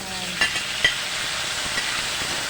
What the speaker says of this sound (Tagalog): At pag nag-brown na to, ilalagay na natin yung kamatis.